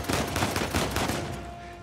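Dense rapid gunfire in Uncharted 4 rattles continuously, loud and close, a burst of overlapping shots fading slightly near the end.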